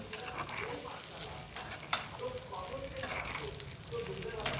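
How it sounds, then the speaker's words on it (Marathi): Garlic cloves sizzle in hot oil for a tempering for a raw mango takku, a steady close frying hiss that runs under a voice talking. "त्या लसूण पाकळ्या आपल्याला या तडक्यामध्ये घ्यायच्या आहेत"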